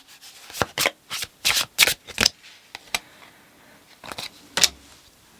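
Tarot cards are shuffled in a series of crisp riffling bursts, several quick ones in a row, then a pause and two more, close and clear with no talk.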